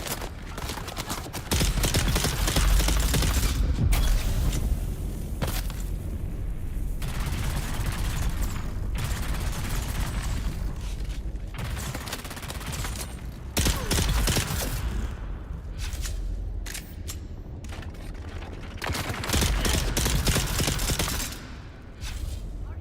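Dense gunfire fills a firefight in the video game Dune Awakening, loud, sustained bursts and rattling volleys with brief lulls between them.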